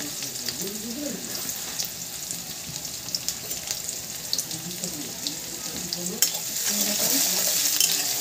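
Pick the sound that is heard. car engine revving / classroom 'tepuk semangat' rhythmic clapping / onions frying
onions frying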